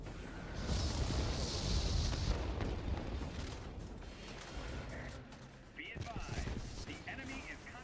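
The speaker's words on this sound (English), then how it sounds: "we put our Tiny Tim rockets on that radar installation" Tiny Tim rockets hit a radar installation in the World of Warplanes game, producing booming explosions and rumbling blasts over steady aircraft engine noise, followed by quieter in-game effects.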